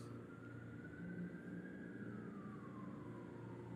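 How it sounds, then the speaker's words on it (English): A distant siren wails in a slow rising and falling tone over steady low traffic rumble, faint and continuous. "I hear more sirens."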